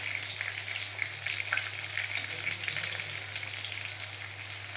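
A snack frying on a low gas flame, an even, continuous sizzle with fine crackling that holds steady throughout, close and fairly loud, with a low hum underneath.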